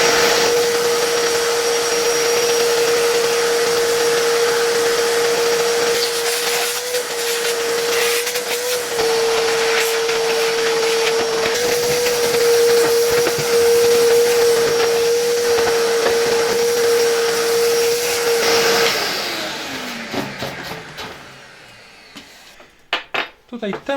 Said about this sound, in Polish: Mam już tutaj odkurzacz i możemy czyścić.